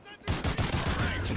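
Gunfire in the video game Call of Duty Ghosts: a dense burst of rapid shots erupts after a brief quiet start, loud and continuous like automatic fire, with a voice faintly underneath.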